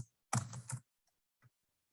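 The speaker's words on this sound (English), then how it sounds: "Here you're going to create your signature by typing your name," A short burst of typing on a computer keyboard, a name entered in quick clustered keystrokes lasting about half a second, with a couple of faint isolated clicks afterward in an otherwise quiet setting.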